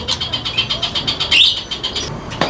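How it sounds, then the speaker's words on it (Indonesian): Caged racing pigeons at a bird kiosk give soft rapid fluttering and shuffling with a faint coo, a rhythmic rustle of wings close by and a brief sharper chirp midway, no talking. "Burung gak ada yang jinak"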